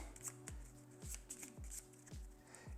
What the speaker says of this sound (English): we give the treasure cards a bit of a shuffle